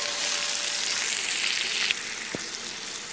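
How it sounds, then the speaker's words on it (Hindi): Raw mango cooking with salt, red chilli powder and black salt in a pan gives a steady close frying sizzle throughout, with a single soft stirring scrape partway through and no voices. "अब आधा से 1 मिनट इन मसालों को केरी के साथ अच्छे से मिक्स करते हुए हम थोड़ा सा पका लेते हैं।"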